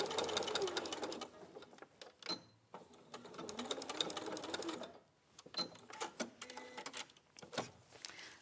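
A sewing machine bastes a zip into place, running in close, steady bursts of rapid needle stitching with short pauses between runs, no talk over it.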